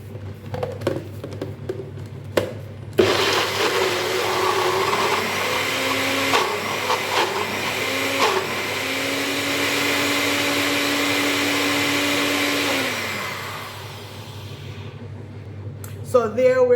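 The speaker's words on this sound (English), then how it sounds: "and then you will blend" A countertop blender whirs through a thick protein hair mask, starting abruptly after a few knocks and running as a loud, steady motor drone whose pitch shifts slightly as the mix smooths out, then winding down and stopping.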